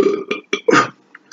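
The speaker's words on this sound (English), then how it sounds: "If you burp, it's a nutritious meal" A single loud burp after a meal of fried liver and zucchini, a short rough belch broken into several gulping bursts and trailing off into quiet.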